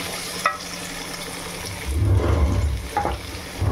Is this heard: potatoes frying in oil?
yes